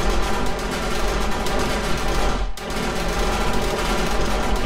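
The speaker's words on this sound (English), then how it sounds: "The turret killing faster than spawning." A video game turret fires in a rapid, continuous automatic stream at zombies during a horde night, loud and steady with one brief dip mid-burst.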